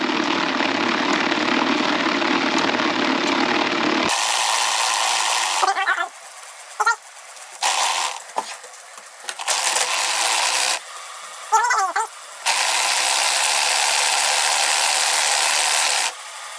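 A bicycle chain runs through a Halfords chain cleaner with degreaser, a steady ratcheting, whirring clatter that stops and starts in bursts, with a person talking during the pauses.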